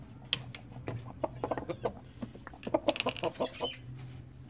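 Domestic hens, including a brooding one sitting on eggs, cluck in soft, irregular short bursts close by, with a few quick clustered calls and no talk.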